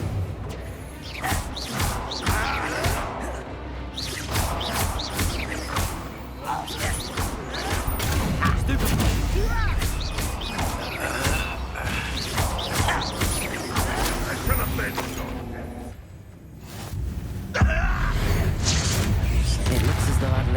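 Confringo fire-blast spells from Hogwarts Legacy crash and boom repeatedly through a busy fight, with whooshes and impacts layered over the game's background, and voices speaking now and then.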